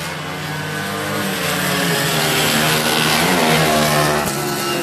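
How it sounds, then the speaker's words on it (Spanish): Racing motorcycle from the CG Novato 200 gasoline class, revving hard at a track, its engine a loud, sustained buzzing drone that climbs and holds steady for the whole stretch, with no voices over it. "Ese motor está rápido, rápido."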